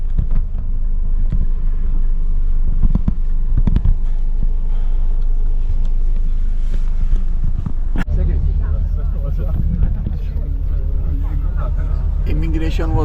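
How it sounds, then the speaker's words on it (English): A bus rumbles along with a steady low engine drone and road noise, passing through an immigration gate in Chile, while people talk inside over the engine; a sharp knock lands midway. "We are still in the bus."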